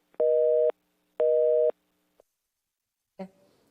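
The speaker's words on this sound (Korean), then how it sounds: "전화가 잠시 좀 끊어졌습니다" Telephone busy signal after a dropped call: two clean, evenly spaced beeps, then a short click and a brief thud in otherwise quiet surroundings.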